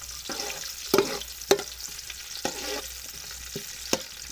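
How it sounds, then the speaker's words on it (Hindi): Onions frying in hot oil in a wok, giving a continuous crackling sizzle up close, broken by several sharp stirring knocks and scrapes, with no speech. "इसी के अंदर हम डाल देते हैं प्याज। ऑयल गर्म हो चुका है।"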